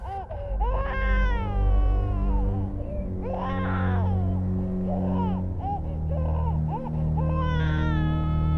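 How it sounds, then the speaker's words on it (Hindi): A baby cries in a tense horror drama scene, with wavering wails rising and falling over a steady low background drone, loud and close throughout. "ये बच्चे की रोने की आवाज।"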